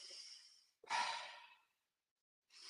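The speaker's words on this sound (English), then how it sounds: "We're going right into this circular breathing." Deep breathing from a guided circular breathing exercise: two long, loud breaths, each a slow inhale-exhale wave separated by a brief pause, with the start of a third breath at the end, close and alone without talk.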